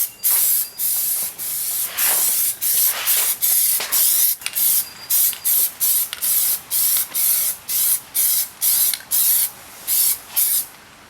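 Plasti Dip sprays onto the grille of a Mercedes-AMG E63 S in a long run of short, loud aerosol hisses, each about half a second, separated by brief gaps, close and without talk.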